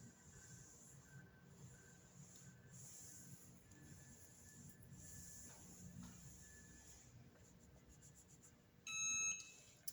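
An electronic timer beeps in a short rapid burst near the end, close and clear, during heat pressing of heat transfer vinyl onto a T-shirt, after a long stretch of quiet room hiss.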